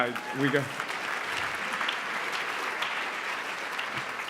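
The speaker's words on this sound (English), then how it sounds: "you can applaud that" A crowd applauds steadily, a continuous wash of clapping that holds throughout at moderate volume.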